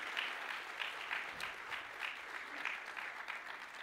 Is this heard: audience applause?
yes